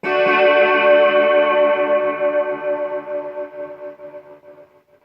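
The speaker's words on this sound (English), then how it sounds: "If you put a gate at the end of a reverb, it does kind of get annoying and cut out the trails" A sustained distorted guitar chord rings out with reverb through a Zoom MultiStomp, then a noise gate makes its tail stutter and chop off in pulses as it fades.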